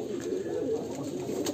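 Pigeons coo softly and continuously in a coop, a low warbling murmur from several birds close by, with no talking.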